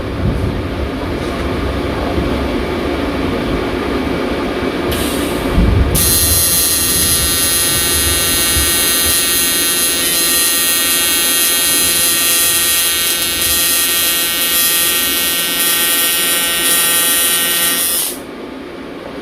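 An Everlast welder stick welding a machined bung with a larger rod gives a loud, continuous buzzing crackle. The arc stays steady for about twelve seconds, then cuts off, leaving a lower background hum.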